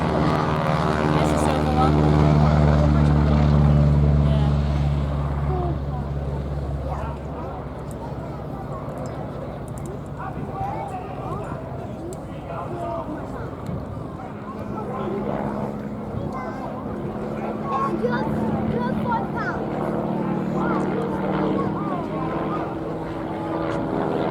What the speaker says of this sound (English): Just arriving in the overhead, ladies and gentlemen, to begin his display, Tony Smith in the Booker BU-131